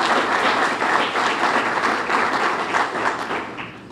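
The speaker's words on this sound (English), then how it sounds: "If you'd give him applause," An audience at an education event gives steady, dense applause for a newly introduced school superintendent. The clapping stays even throughout and eases slightly at the end.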